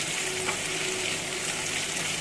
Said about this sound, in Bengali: এবার তেলেতে এই পেঁয়াজ টমেটো সব একসঙ্গে দিয়ে দিলাম